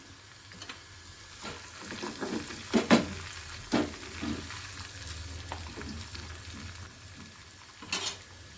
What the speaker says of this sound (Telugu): వెల్లుల్లిపాయ కొంచెం వేగిన తర్వాత కరివేపాకు ఎండుమిర్చి